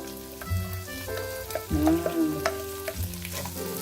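Onion and spring onion sautéing in oil for fried noodles, a close, steady sizzle with stirring scrapes and utensil knocks over a few seconds, no speech.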